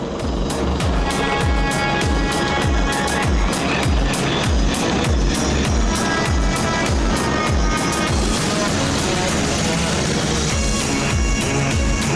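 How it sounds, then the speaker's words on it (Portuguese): A Portuguese Navy Lynx Mark 95 helicopter aboard the frigate Corte Real makes a loud, steady mechanical roar with rhythmic rotor thumping that runs throughout, close and constant. "Nós atrás temos um Lynx Mark 95, portanto é os Lynx, os helicópteros da Marinha de Guerra Portuguesa"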